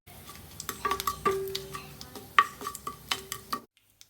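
Urad dal, mustard seeds, cumin and dry chillies sizzling in hot oil, with a spoon clinking and scraping the pan in irregular taps before the sound stops abruptly.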